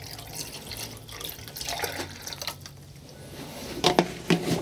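Water pours onto chilli pepper seed trays to soak the soil, a close, gurgling trickle that swells into splashier bursts toward the end.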